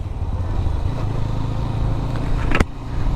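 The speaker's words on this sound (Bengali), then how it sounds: "স্টার্ট দিতে এই বাইকের মাফলারের একটা অসাধারণ সাউন্ড" A GPX Demon 165RR motorcycle engine runs steadily through its muffler just after starting, a continuous low rumble with a brief sharp clatter near the end, close and fairly loud with no talk.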